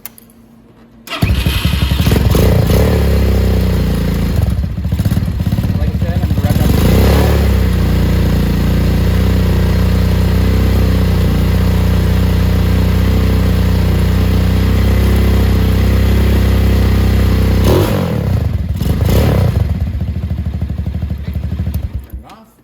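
A Venom motorcycle on its 500-mile tune-up cranks and starts, then runs loud and close with a steady idling drone and light revving for about twenty seconds before shutting off. Someone talks over it.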